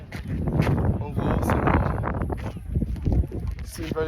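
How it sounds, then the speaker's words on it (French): Wind by the sea in a Sicilian valley of temples, gusting and buffeting the microphone with rough rumbling noise throughout, under occasional faint voices. "Mais en vrai il y a du vent."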